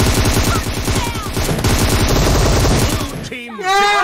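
Rapid bursts of automatic gunfire in the video game PUBG Mobile crackle loudly and close for several seconds, then fade into echoing shots at the end.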